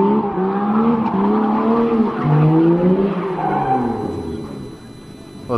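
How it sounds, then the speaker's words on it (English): A drift car spins out on a banked track, its engine revving hard over a loud, close squeal of skidding tires that rises and falls through the spin. "What was that, his third spin out?"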